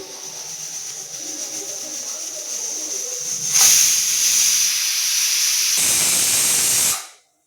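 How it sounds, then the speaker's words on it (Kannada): A pressure cooker whistles loudly, releasing a strong, continuous jet of hissing steam that grows harsher midway and then cuts off abruptly near the end, heard close up with no talk. "ಗೈಸ್ ಇವಾಗ ಫೈನಲಿ 3ನೇ ವಿಸಿಲ್ ಬರ್ತಿದೆ"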